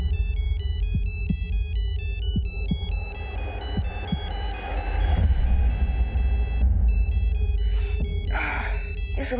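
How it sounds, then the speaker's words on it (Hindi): A telephone ringtone plays a repeating electronic melody, steady and fairly loud indoors. Low rhythmic thumps run under it, with some faint background movement near the end. "सुबह सुबह किसका फोन है?"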